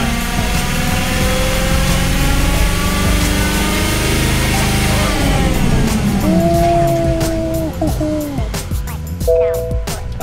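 A Tesla Model 3 on a chassis dyno makes a loud, continuous whine and roar during a pull. The sound winds down partway through, and a few short tonal beeps and clicks follow.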